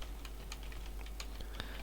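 Quick, uneven taps on a computer keyboard while playing Cataclysm: DDA, sharp clicks close to the mic with brief pauses between bursts.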